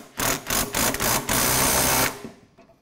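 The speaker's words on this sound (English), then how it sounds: "I'm going to use the gun to tighten them up, simply because I can." Impact gun tightening the shock absorber fittings on a Jaguar XJS, a few short loud rattling bursts followed by one longer hammering run that cuts off, close up with no talking.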